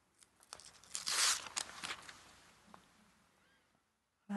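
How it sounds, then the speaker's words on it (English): A quiet crinkly tearing sound as paper backing is peeled off fusible web, a few short rips then a longer pull, close and soft. "Peel off the paper backing."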